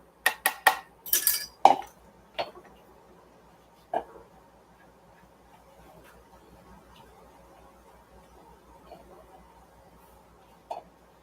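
Sweet potato stew being stirred in a pot gives a few sharp clinks and scrapes of a utensil against the pot near the start, then sparse faint knocks over quiet background.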